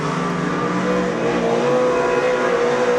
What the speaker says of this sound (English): listen to those revs down the back straight